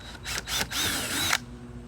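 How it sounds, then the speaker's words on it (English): A power drill with a 1/8 inch bit whirs steadily for over a second drilling a kayak hull, pitch shifting slightly as it bites into material, then stops abruptly. "We're going to start it with the drill"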